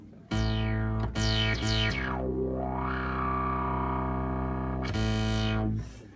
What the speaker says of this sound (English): with the drive, brute factor, resonance, you can really shape the filter in many different ways